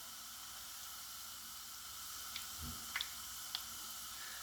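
Lebanese kohkoz bread frying in oil in a pan gives a quiet, steady hiss, with a few faint pops and clicks near the end.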